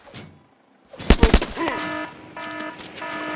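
Rapid bursts of rifle fire from a triple-burst weapon in The Culling, a loud cluster of sharp shots after a brief silence, followed by bird-like chirping tones and game ambience.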